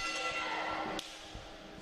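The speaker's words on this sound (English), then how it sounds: "And there's the bell. This is officially underway." A single sharp ring of the bell marks the start of a women's wrestling championship match in Levittown, Pennsylvania, striking once and then fading over the low noise of the arena crowd.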